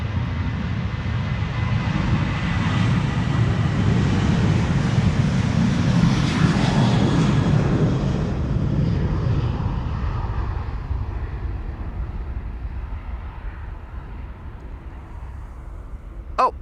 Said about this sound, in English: This was KLM flight 1251 to bloody Helsinki in Finland